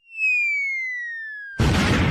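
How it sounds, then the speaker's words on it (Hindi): A firecracker set off indoors at home: a steady whistling tone slides slowly downward for over a second, then cuts into a sudden loud, crackling blast that fills the room. "एक पटाखा यहीं जलाता हूँ"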